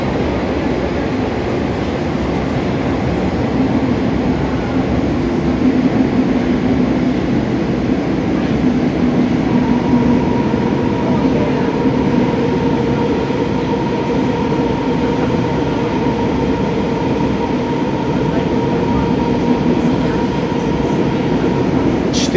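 A Rusich train runs through a Moscow metro tunnel with a loud, steady rumble, rolling wheel noise and a sustained whine rising partway through, heard from on board.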